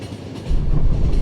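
Passenger train from the video game The Final Station rumbling along, a low steady roll that grows louder and heavier partway through, with no talk.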